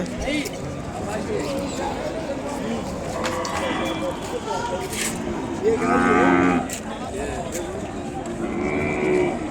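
Calves moo loudly a couple of times amid a noisy crowd at a calf market in Kodad, with someone talking over the low calls.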